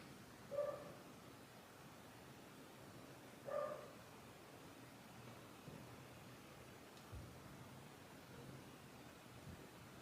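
Two short, faint barks from a dog come early, then a couple of softer, fainter sounds follow over a quiet indoor background hiss.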